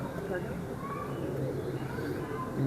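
Pigeons kept by a breeder in Kasur give soft, low cooing close by under murmuring voices and a steady background hum.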